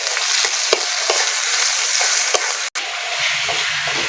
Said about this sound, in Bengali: ভালো করে নেড়ে চেড়ে ভেজে নেব